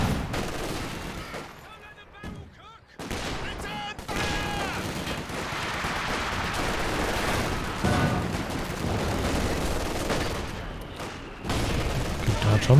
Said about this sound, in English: They're getting shelled down by the ISGs, by the mortars.